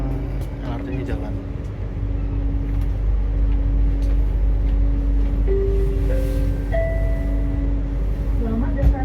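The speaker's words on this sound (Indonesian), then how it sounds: "LRT-nya jalan." A Jabodebek LRT light rail train on the Cibubur Line runs steadily, its low continuous rumble filling the whole stretch with a sustained mid hum and brief rising electric whines near the end.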